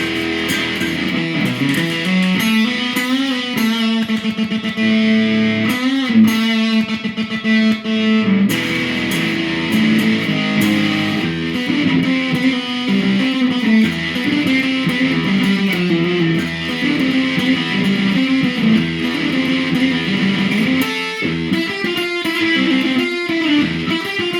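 An electric guitar through a Fender x Hello Kitty fuzz pedal plays sustained, saturated chords and riffs, loud and continuous throughout with no voices.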